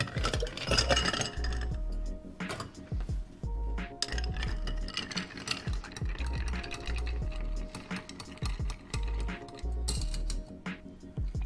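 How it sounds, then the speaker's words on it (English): Ice clinks and rattles as it is stirred in a mixing glass for a whiskey cocktail, a busy, continuous chinking with bright metallic taps, close and fairly loud. "Fill your mixing glass with ice and give it a stir for 20-30 seconds."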